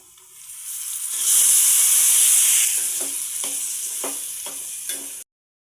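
Tomatoes drop into hot oil seasoned with turmeric and fenugreek for a tomato prawn curry, setting off a loud, close sizzle that swells quickly, then settles into a steady hiss broken by a few light stirring clicks.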